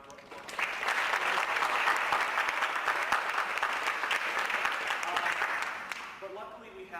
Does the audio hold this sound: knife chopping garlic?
no